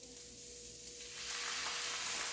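Soy sauce hitting hot cauliflower fried rice in a pan, with a soft background hiss that swells about halfway through into a fuller, steady sizzle, and no talking.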